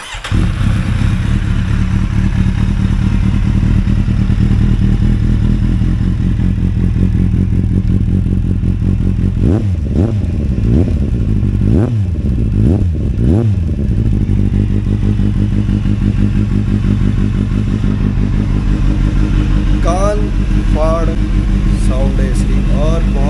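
A Kawasaki Z800 motorcycle starts and settles into a loud, steady idle close by, with a burst of throttle revs in the middle and someone talking over the running engine.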